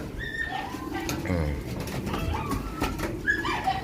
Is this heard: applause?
no